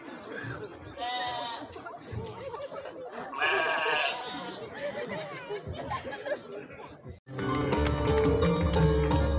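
Goats and sheep bleat repeatedly in a lively farm setting, their calls mixed with people chattering nearby, ending in a loud, dense burst of sound.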